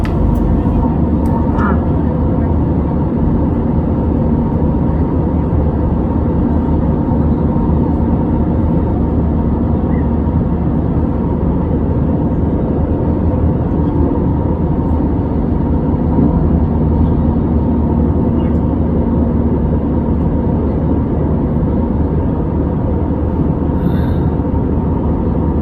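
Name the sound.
Easyjet Airbus A320 cabin noise during climb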